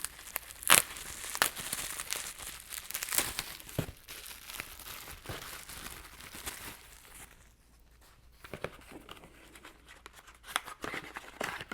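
A plastic package of baseball trading cards being torn open and handled up close, with bursts of crinkling and tearing at the start, then scattered crackles and rustles as the wrapper is pulled apart.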